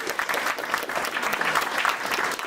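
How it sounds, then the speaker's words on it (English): A crowd at a collegiate esports awards ceremony applauds the varsity Valorant team, a continuous, fairly loud wash of many clapping hands that stays even from start to finish with no speech. "A huge round of applause for Victor, Adam, and our Varsity Valorant team"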